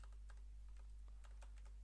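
Keys clatter on a computer keyboard in a quick, uneven run of light taps, close but quiet over a low steady hum.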